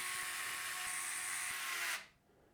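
Power screwdriver driving short radiator screws to secure the IO panel at the top of a Thermaltake Ceres 330 TG ARGB PC case, a close high whir lasting about two seconds before cutting off abruptly.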